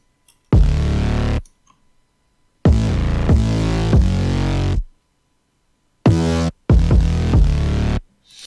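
Two layered 808 basses for a beat, playing together as deep booming notes in short phrases with gaps of silence between them, loud and heard alone.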